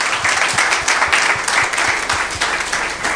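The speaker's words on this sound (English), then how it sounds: "Please join me in giving them a warm round of applause." An audience at a business breakfast dialogue gives a warm round of applause, loud, close and sustained, with many hands clapping in a full steady roar from start to finish.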